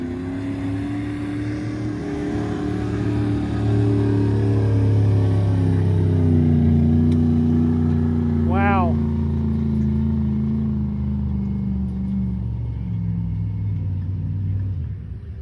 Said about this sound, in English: That crazy Dodge Durango just went for a second pass